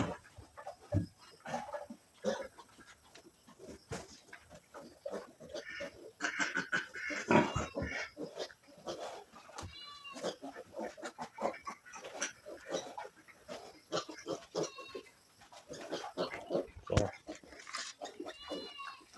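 Piglet on a farm grunting in short, scattered bursts through a busy, noisy outdoor scene, with chirping birds and other animal sounds in the background.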